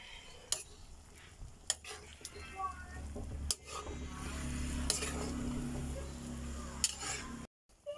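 Squash and bottle gourd are stirred in a cooking pot for ginisang mongo, with scattered utensil clinks and scrapes over a steady low sizzle and hum.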